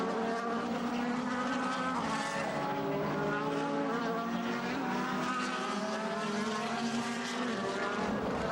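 DTM touring race cars on the last lap at the Nürburgring, engines screaming in a steady high-pitched drone with rising and falling gear changes, loud and sustained, with no commentary over them.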